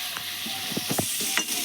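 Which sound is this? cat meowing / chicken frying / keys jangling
chicken frying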